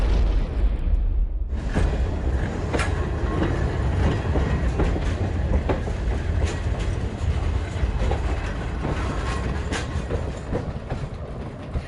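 A hospital train with livestock wagons rolls steadily along the track, a continuous loud rumble with rhythmic clickety-clack and occasional metallic knocks throughout, no voices.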